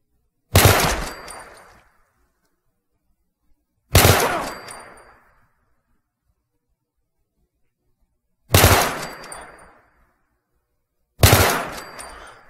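The HoneyBadger gun fires in a Fallout 4 mod, four single loud shots spaced a few seconds apart, each a sharp crack with a short decaying tail and silence between.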